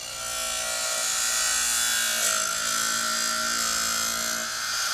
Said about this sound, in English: they're telling me it's a that is the belt grinder